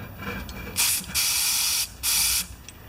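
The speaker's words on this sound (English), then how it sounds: "There, that should spray through there nice and crisply now." Three sharp bursts of pressurized spray hiss loudly through the carburetor jets of a Honda HRB215 lawnmower, the middle one longest, separated by brief pauses over a low background hum.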